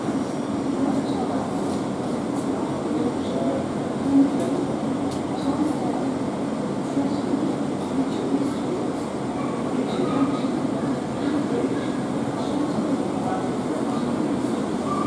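A Thameslink Class 700 train departs London St Pancras International, a steady low rumble of rolling stock with faint rattles, heard from inside or near the train, with voices murmuring underneath.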